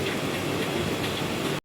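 A passing train heard alone with steady broadband rumble and rail noise, loud and continuous for under two seconds before cutting off abruptly.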